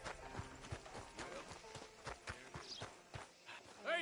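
Horse hooves clip-clop in a steady walking rhythm in Red Dead Redemption 2, close and moderately loud, with a voice and game sounds over them.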